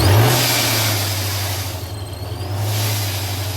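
A ProCharged supercharged street car idles loudly close by, a deep steady rumbling drone with a rough low pulse running for several seconds.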